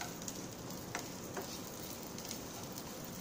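Onions sauté in a hot pan with a continuous soft sizzle and crackle, close and low in level, with a couple of faint stirring clicks and no talking.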